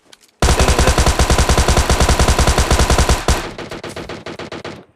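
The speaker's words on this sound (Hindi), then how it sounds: "उतर के साथ साथ मेरे को मिलती है टॉमी गन।" Rapid, loud automatic bursts from a Tommy gun in the mobile battle-royale game PUBG Mobile Lite, a sustained stream of close shots for about three seconds, then a quieter, more spaced string of distant gunfire.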